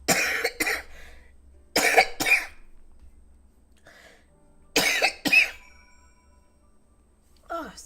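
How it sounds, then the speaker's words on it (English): Several loud, close coughs from someone recovering from a cold, arriving in short clusters of two or three with quiet gaps between, and a last softer cough near the end. "Lots of coughing."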